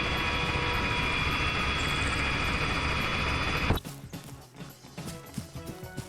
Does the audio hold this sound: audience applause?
no